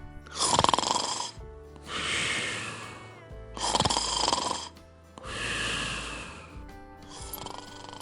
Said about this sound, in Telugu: ఇదేంది ఇప్పుడేమన్నా అప్పుడే గురు కొడుతుంది.